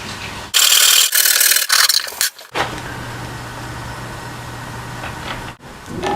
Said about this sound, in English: I've got my 2-inch diameter T-auger. Now I'm going to cut the shelf